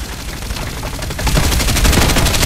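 Rapid automatic gunfire from the shooter game Farlight 84, a steady rattle of shots that grows louder partway through, with no voices.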